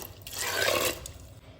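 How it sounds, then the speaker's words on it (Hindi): Water pours into a pressure cooker holding moong beans, a steady splashing fill rising and then easing over a second and a half, close by with no talk. "इसी के साथ इसमें जाएगा पानी।"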